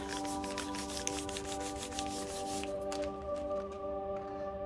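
Paper is rubbed over a stencil on a gelli plate, a quiet run of regular brushing strokes under a faint steady hum that fades out partway through.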